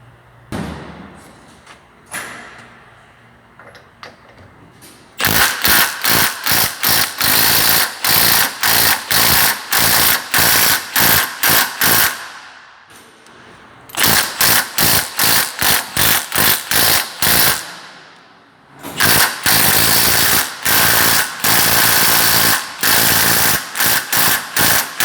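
A cordless 3/8-inch stubby impact wrench on a 6.0 battery, driving a 24mm Tecton impact socket, hammers in loud rapid bursts after a quiet start, with brief pauses between runs.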